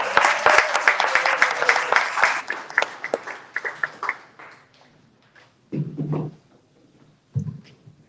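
Audience applause greeting an author as he takes the stage at a book event in San Francisco, a dense burst of clapping that thins and fades over a few seconds, followed by brief scattered rustles and bumps.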